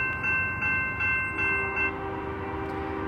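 CSX freight train passing eastbound in Louisiana, a loud close rumble with tonal horn-like notes sounding in short repeated pulses over the rolling noise before fading to a steady low roar.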